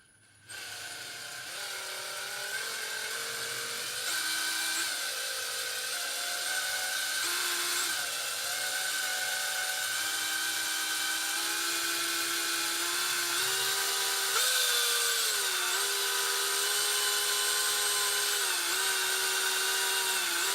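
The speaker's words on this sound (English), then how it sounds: "So when we drill into this, we're going to start with just one hole here." A power drill bores a hole into a Subaru rear main seal, giving a continuous high whine that rises slightly in pitch as it cuts, close and steady for about twenty seconds with no speech.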